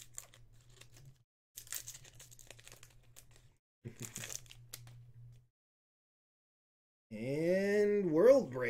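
A Magic: The Gathering Oath of the Gatewatch booster pack wrapper torn open, short bursts of crinkling foil in the first half, with a person talking afterward.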